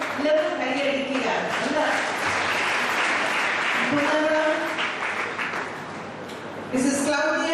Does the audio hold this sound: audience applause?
yes